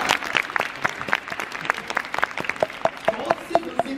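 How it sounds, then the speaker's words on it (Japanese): A crowd at a Universal Studios Japan show claps in a loose, rhythmic beat, individual sharp claps standing out clearly over a light bed of crowd noise. "自分自身に大きな拍手"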